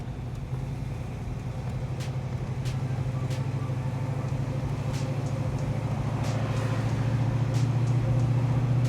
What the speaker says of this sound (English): Exhaust sounds really good coming out of the rear.